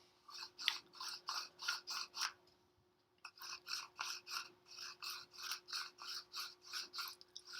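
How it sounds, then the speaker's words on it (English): Herb grinder being twisted in a quiet room, a close, dry rasping crunch in rapid rhythmic strokes, a run of about seven grinds, a short pause, then a longer steady run. "While I'm grinding this up"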